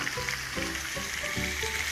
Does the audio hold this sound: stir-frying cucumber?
yes